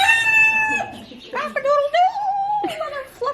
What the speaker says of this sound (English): Look at the little chickies.